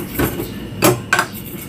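Salt mixed into flour in a bowl for dry pancake ingredients, heard as three short scraping, tapping strokes of a utensil against the bowl, close and fairly loud over a soft background.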